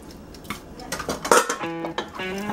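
Shrimp, a pound of it, tipped into a pot of gumbo with clattering metal pot and utensil clinks, a louder clank in the middle, and sizzling, stirring sounds close by.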